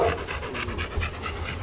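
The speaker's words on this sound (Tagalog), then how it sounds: "Ito ang pinakamatandang Rottweiler namin" A Rottweiler pants rapidly and rhythmically at close range, quick breathy huffs repeating steadily with no voices.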